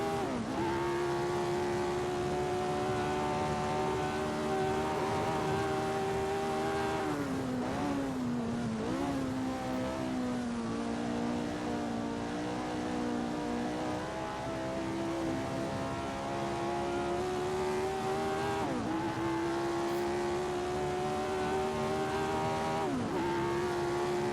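Racing video game set at the 1967 US Grand Prix, with 1967 Formula 1 cars lapping: one continuous loud engine drone that rises and falls with periodic pitch drops on gear changes and braking, steady throughout with no talking.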